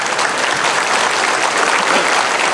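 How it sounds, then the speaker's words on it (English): A large crowd at a community anniversary celebration claps loudly and continuously, a thick wash of applause with no break. "We can give them a round of applause."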